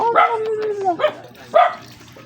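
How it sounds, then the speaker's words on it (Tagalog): A dog barks close by in three sharp bursts, with a drawn-out whining tone between the first two barks. "Kumakal yung aso eh"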